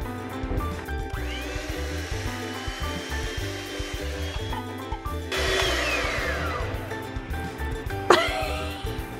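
Cake batter being whipped with powdered sugar and milk for a rainbow pineapple cake, a continuous whirring mixer drone with shifting pitch and a few scraping bursts, no talking.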